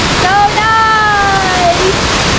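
Cinolum Falls near Cagayan de Oro, Philippines, fills the air with a steady, loud roar of rushing water, while a voice whoops excitedly over it.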